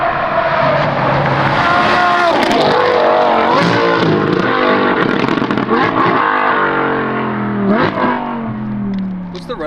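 Lamborghini fitted with a Valvetronic F1-style exhaust revs hard and loud, the engine note climbing and falling in repeated aggressive blips, close up and with no talk.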